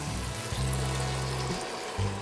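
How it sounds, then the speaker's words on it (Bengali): Water poured into a cooking pan of curried fish with yoghurt masala, a steady low gushing that comes in two bursts, with no voices. "এখন জল দেবো"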